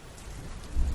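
Heavy rain pouring down on a moving car and its windshield in a steady, hissing wash with a deeper rumble swelling near the end.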